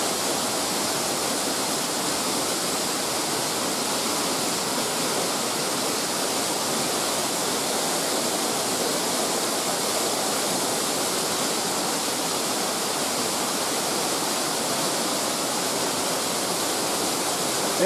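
Waterfall in Washington State, heard from a short distance as a steady, loud, broadband roar of falling water that holds constant throughout with no voices.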